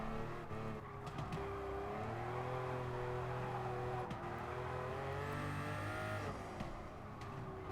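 A Toyota Supra racing in Gran Turismo Sport, its engine droning steadily and shifting pitch as it revs and accelerates, close and continuous, with faint game sounds behind it.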